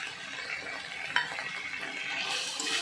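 Beaten yogurt going into a cauliflower curry in a pan, a low steady sizzle with light stirring and a single small clink of a utensil.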